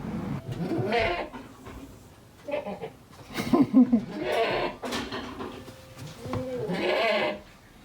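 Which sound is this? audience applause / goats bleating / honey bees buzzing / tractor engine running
goats bleating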